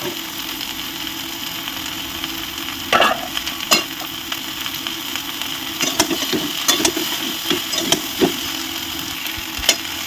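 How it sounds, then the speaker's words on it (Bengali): Onion, garlic and cauliflower fry in a pan with a little oil, giving a steady hiss broken by a few sharp clinks and scrapes of stirring. "এইভাবে কিছুক্ষণ ভাজতে থাকবো পেঁয়াজ রসুন এবং ফুলকপি সবগুলো ভালো করে সুন্দরভাবে ভাজা ভাজা হয়ে আসবে"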